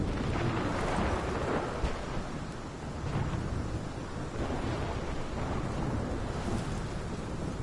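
A thunderstorm in the game Life is Strange: heavy rain pours without a break while deep thunder rumbles roll through, loud and close.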